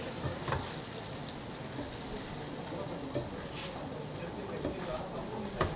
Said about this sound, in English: So just ensure that the masala is well sautéed.